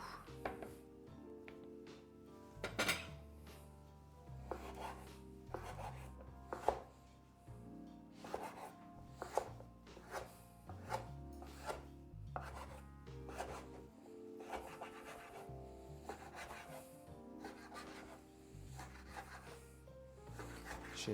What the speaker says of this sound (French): Et moi, je vais venir détailler mes lardons du coup.